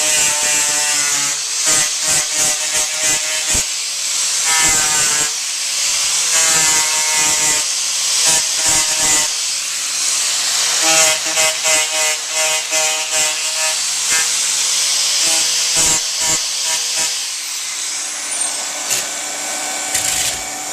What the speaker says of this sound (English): we're going to take an angle grinder, we're going to grind off the impurities of this